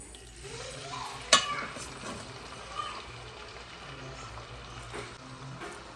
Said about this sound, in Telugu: ఆయిల్ వేసుకున్నాం కదండి, దాంట్లోనే చికెన్ ఫ్రై చేసుకోవాలి.